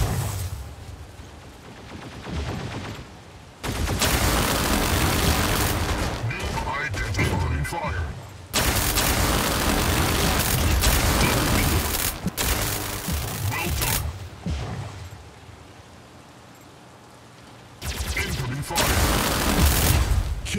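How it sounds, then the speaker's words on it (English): Incoming enemy gunfire in the mech combat video game Mech Arena, loud sustained bursts of rapid shots and booming impacts broken by short quieter gaps. "Incoming fire."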